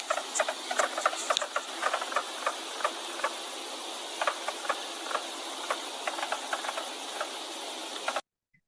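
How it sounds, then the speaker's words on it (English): A mink frog chorus of rapid, irregular tapping clicks like popping popcorn, steady and dense over a constant hiss for about eight seconds before it cuts off abruptly. "So that is the sound of the mink frog."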